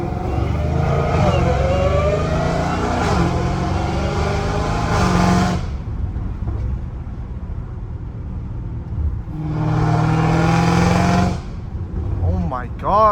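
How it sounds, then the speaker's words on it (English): A Dodge Durango Hellcat engine roars and revs loudly in two long bursts with a deep rumble in between, in Los Angeles, and voices can be heard talking around it. "That was a Durango, Hellcat Durango."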